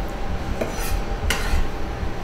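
Chopped pepper pieces dropped and tossed into a bowl, with a couple of sharp clattering clinks against the dish over a steady kitchen background, close and moderately loud.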